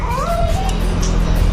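A house cat meows, a drawn-out wavering cry rising then falling, set against steady loud household background noise with faint voices.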